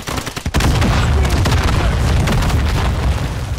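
Heavy gunfire and booming blasts in Call of Duty: Modern Warfare II fill the mix loudly and continuously after a sharp crack, a dense, sustained barrage with little break.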